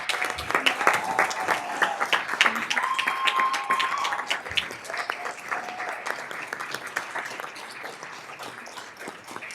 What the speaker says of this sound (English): Let's give our 2019 Classified Champion Award winners a round of applause.